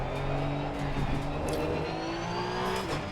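A race car engine in a sim racing video game, droning steadily at high revs with rising and falling pitch as it approaches a corner, loud and constant, with faint tire noise.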